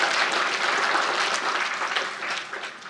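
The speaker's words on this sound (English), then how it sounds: "give yourselves some applause. Please, clap your hands." Sustained applause from a keynote audience at a technology conference, a broad, even wash of many hands clapping at once that tapers slightly toward the end, with no speech over it.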